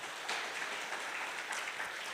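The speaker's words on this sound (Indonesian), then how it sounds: "Sekali lagi kasih tepuk tangan buat Tuhan Yesus." Soft, distant clapping from a church congregation applauding in praise of Jesus during a service, a brief even patter of many hands, fairly faint throughout.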